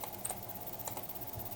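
Quiet typing on a computer keyboard, a few light, scattered keystrokes over a soft background hum, with no speech.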